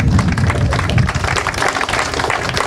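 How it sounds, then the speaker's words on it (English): Audience clapping for an angler at a fishing tournament grand final presentation, a dense steady burst of applause held close for a few seconds with faint crowd noise mixed in. "Folks, round of applause for Grant."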